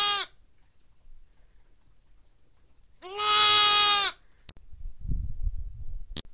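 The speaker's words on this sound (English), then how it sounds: "they just had a couple of lambs that were just born recently." Newborn lambs bleat on a farm: one short bleat at the start, then a loud, sustained, wavering bleat close by, with some rustling and handling noise afterward.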